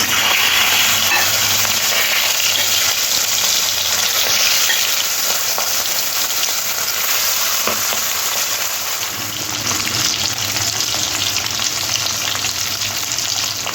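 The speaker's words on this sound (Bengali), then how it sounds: "মাছগুলো এরকম লাল লাল করে ভেজে নিচ্ছি" Singhi fish fry in hot oil in a pan, a loud, dense, continuous sizzle and crackle that holds steady throughout without talk.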